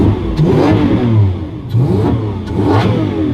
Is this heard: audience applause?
no